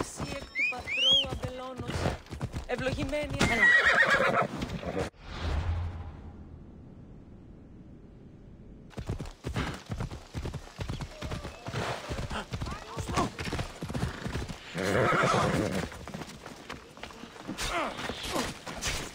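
Horse ride in a game: hooves clip-clop in a steady rhythm with a whinny early on, then a quiet gap before the trotting resumes and continues, loud and close.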